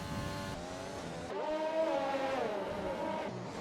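Racing cars in an F1 video game on Xbox at the American Grand Prix, engines whining and shifting pitch steadily with a brief change in tone as cars make contact, no voices over it.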